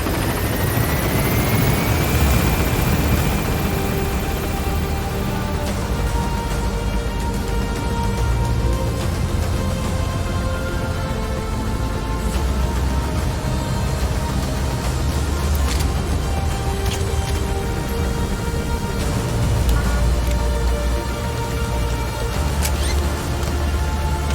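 A helicopter lifts off in the video game Metal Gear Solid V: The Phantom Pain. Its loud, steady rotor and engine drone fills the whole stretch with no talking.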